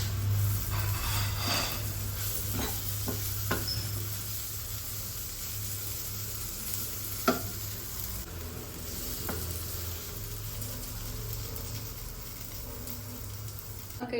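Mussels fry in a pan with a steady hiss and crackle, punctuated by occasional clacks and scrapes as the pieces are turned and stirred; the sizzle is continuous and moderately close, with no voices over it.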